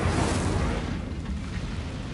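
An Incendio fire spell cast in the Hogwarts Legacy video game: a loud, roaring whoosh of flame bursts out and fades slightly over two seconds, with no voices.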